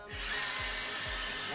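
A cordless 18V Metabo KHA 18 LTX BL 40 hammer drill bores into concrete with a loud, steady whine and rapid grinding hammering, while low thuds recur about every half second throughout.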